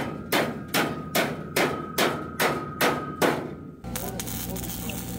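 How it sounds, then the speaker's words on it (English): Hammers bang on metal in a junkyard, seven evenly spaced loud ringing strikes about half a second apart, then a sudden cut to a steady broadband noise bed. "They're using hammers."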